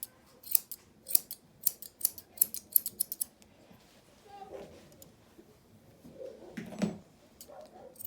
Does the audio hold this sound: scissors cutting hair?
yes